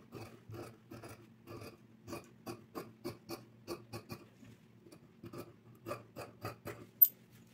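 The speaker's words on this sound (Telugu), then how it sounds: "ఇప్పుడు దీన్ని ఇలా కటింగ్ చేసుకోవటమే." Scissors snipping through blouse fabric in a series of quick, close crisp cuts, irregular rhythmic chops over several seconds with short pauses, no talking.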